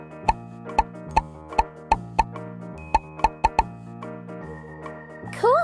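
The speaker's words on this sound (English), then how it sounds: "Tap on the bubbles." Bright bubble-like plops from a kids' number game, about a dozen spaced taps popping one after another over soft background music, ending in a rising whistle-like flourish.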